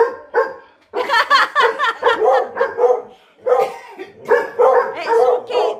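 A dog barks repeatedly in quick, yappy bursts, close and loud, with brief pauses between volleys and faint whimpering sounds mixed in, indoors at home.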